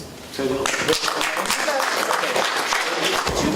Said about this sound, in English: it's really wonderful to have your applause, especially